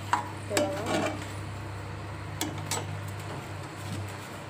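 Chaat masala being stirred into dabeli masala, a spoon scraping and clinking against the pot in scattered light taps over a steady low hum, with no one talking.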